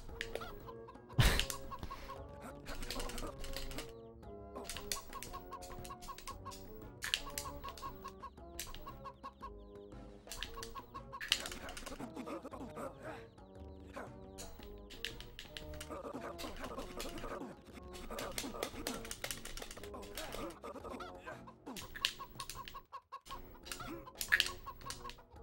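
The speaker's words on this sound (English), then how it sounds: "Oh, damn it, chickens." Chickens clucking in the video game Shrek Extra Large, with repeated clucks over busy game music and sound effects that run throughout.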